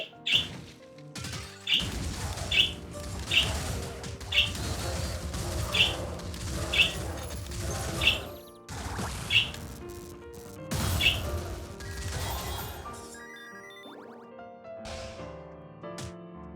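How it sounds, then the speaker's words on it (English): Repeated bright bird chirps at a regular pace over a busy background of clattering and rubbing noises, the calls fairly distinct and mid-distance. "I'm sure you guys can hear the bird in the background."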